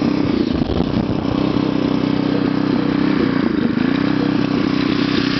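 Small motorized bicycle engine running steadily nearby, a loud buzzing drone with a slight wobble in pitch and no pauses.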